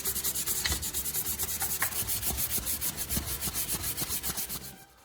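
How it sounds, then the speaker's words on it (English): Rhythmic back-and-forth sanding of a plastic car bumper repair with fine 320 grit sandpaper, steady close strokes continuing for several seconds before stopping at the end. "Switch to 320 grit sandpaper and refine the surface"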